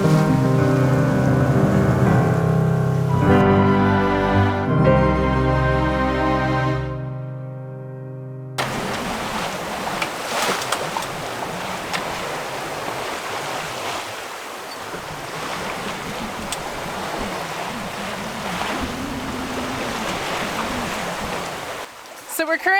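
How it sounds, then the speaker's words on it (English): A sailboat runs downwind through waves in Queen Charlotte Strait. Music plays first, then a steady wash of water and wind rushes past the hull, close and continuous, ending in a brief knock. "So we're currently sailing downwind on a broad reach"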